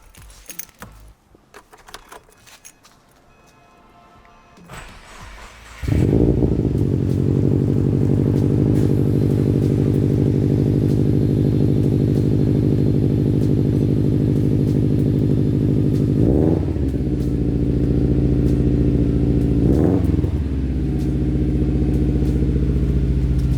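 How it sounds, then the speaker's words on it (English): A 2013 Subaru WRX with a Greddy exhaust, turbo-back with a Grimspeed downpipe, starts after some keys jangle and clatter, then the engine catches and settles into a loud, close, rumbling idle with two brief revs. "I'm gonna go ahead and start this thing up and show you what this thing sounds like."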